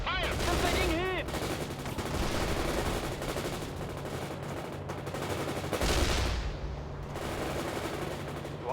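Sustained gunfire from units in World in Conflict, a dense, continuous rattle of overlapping shots and battle noise throughout, with a brief voice transmission near the start and a swell of heavier fire around the sixth second.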